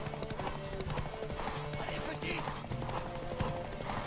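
Horse galloping in the video game The Witcher 3, rapid rhythmic hoofbeats running steadily throughout, with people talking over the galloping and game sounds mixed in.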